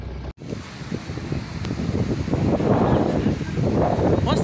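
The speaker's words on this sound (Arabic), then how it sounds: "وصلنا البحر اهو." Sea waves wash onto a crowded beach in Alexandria, a steady broad surf roar swelling louder toward the end, with wind buffeting the microphone.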